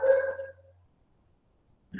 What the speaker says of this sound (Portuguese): Hoje tem os cachorros aqui da vizinhança, está tudo latindo aqui